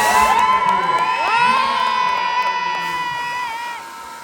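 A concert audience at a live show in Paris cheers loudly, with rising whoops and excited shouts blending into a dense crowd roar that eases slightly toward the end.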